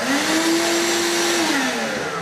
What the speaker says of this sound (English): vacuum cleaner goes on to pick up the chips, and the saw is powered